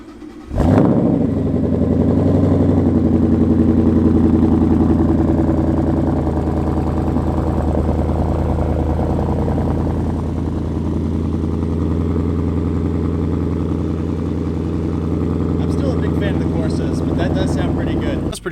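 A car fitted with a catted Roush axle-back exhaust cold-starts with a sharp crank and rev flare, then settles into a loud, steady, deep burbling idle that runs on until the end.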